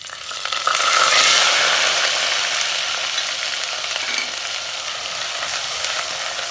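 Onions drop into hot oil with cumin, cinnamon and other whole spices for a potato and soybean curry, bursting into a loud, close sizzle that peaks early and then settles into a steady fry.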